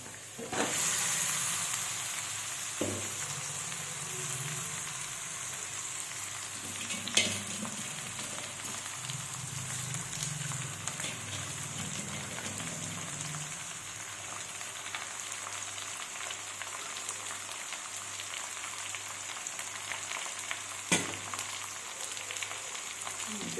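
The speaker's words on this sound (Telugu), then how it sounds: "ముందుగా కలిపెట్టిన చికెన్ ఇందులో వేస్తున్నా" Marinated chicken frying in a pot for a chicken curry gives a steady, crackling sizzle that lasts throughout. A few sharp knocks and stirring scrapes come through now and then, and no voices.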